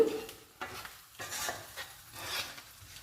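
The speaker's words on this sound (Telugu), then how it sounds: "గుడ్డు ముక్కలు గోల్డ్ కలర్ వచ్చే వరకు వేయించుకోవాలి" Boiled egg pieces frying in a pan for a spicy Guntur-style egg curry, with soft sizzling and scraping stirs of a spatula coming in short bursts, close and fairly quiet.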